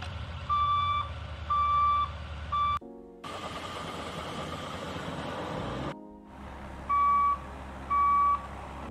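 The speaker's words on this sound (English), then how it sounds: "But truck reversing is a very simple sound effect." An AI-generated truck reversing alarm beeps in an even, repeating rhythm over a low engine rumble. Two short breaks of silence interrupt the sound, and a plain engine drone fills the middle stretch.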